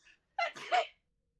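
A single sharp sneeze bursts out, close and fairly loud, preceded by a faint short intake of breath and followed by silence.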